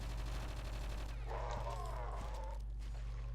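Gunshots fired at a recharge station in the video game Project Eden, a few quiet sharp cracks with a brief burst of impact noise, set under a steady low hum.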